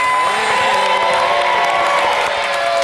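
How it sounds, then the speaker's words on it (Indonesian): A game-show studio audience on Family 100 claps and cheers with whoops and shouts, a loud, dense crowd roar sustained throughout. "Kasih tepuk tangan semangat dong."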